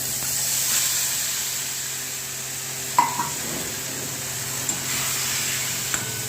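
Fish roe fries in hot oil with cumin, mustard seeds and curry leaves, a steady close sizzle and hiss throughout, with a few small pops and clinks of stirring.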